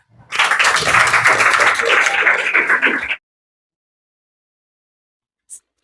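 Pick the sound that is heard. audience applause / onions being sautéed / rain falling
audience applause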